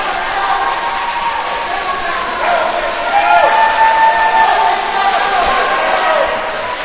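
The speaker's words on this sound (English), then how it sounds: "Crowd cheering him on to get to the finish." Spectators at a high school boys' swim meet cheer a swimmer on through the last lengths of a 500 freestyle, a broad crowd roar echoing in an indoor pool, rising partway through while an announcer talks over it.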